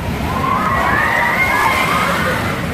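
Continuous loud splashing and churning water on an amusement park water ride at Phantasialand, with faint voices and shouts somewhere in the background.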